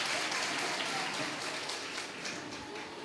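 Audience at a Matron's Day event at Nazareth Hospital, Prayagraj, claps steadily for three seconds, a dense, even wash of many hands that holds its level, with faint voices mixed in.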